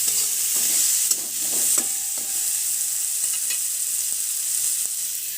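Flat beans dusted with dried chili powder are stirred in a pan over a gas flame, producing a steady close sizzle with scraping spatula strokes near the start and no speech.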